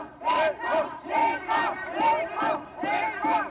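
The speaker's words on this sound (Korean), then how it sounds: "강원도 산골의 작은 도시가 함성으로 가득 찼다." A large welcoming crowd in the small snowy mountain town of Pyeongchang, Gangwon Province, roars in rhythmic, repeated bursts of chanting and cheering, loud and close.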